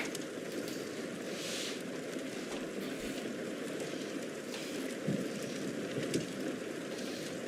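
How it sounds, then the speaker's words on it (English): Steady rain falls outdoors as a faint, continuous patter and hiss, with a few slightly louder drops and no voices. "Hope everyone's okay with the rain sounds as well."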